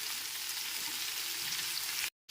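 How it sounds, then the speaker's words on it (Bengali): Steamed cauliflower florets and potatoes fry in hot oil with a steady, even sizzle that cuts out briefly near the end. "ভাপিয়ে নেওয়া সমস্ত ফুলকপিগুলো আলুর সাথে পাঁচ থেকে ছ মিনিট ধরে খুব ভালো মতো লাল করে ভেজে নিতে হবে"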